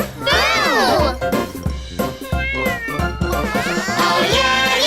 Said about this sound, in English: we found our cat, Boo.